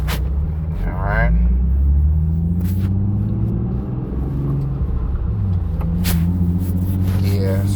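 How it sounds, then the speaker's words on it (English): Steady low engine rumble inside a moving manual-transmission car, droning continuously with gear-shift changes in pitch, while someone talks over it. "I'm driving this car, this manual"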